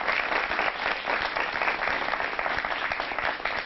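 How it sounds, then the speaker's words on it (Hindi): Steady, dense clapping from the audience at a Hindi kavi sammelan poetry gathering, continuous and even for the whole stretch without any talk over it. "एक बार जोरदार तालियां।"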